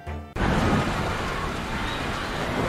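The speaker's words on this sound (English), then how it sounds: "They got caught in another storm." A thunderstorm effect, with steady heavy rain hissing and a low rumble of thunder, bursts in loudly after a short tonal cue.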